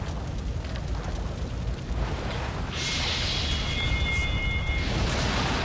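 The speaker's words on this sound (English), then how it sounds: "I'm guessing that's all the jet fuel that's burning" A widespread jet fuel fire burns in the Bioshock video game, a steady loud roaring rumble that runs throughout, with a thin high whistling tone rising in the middle.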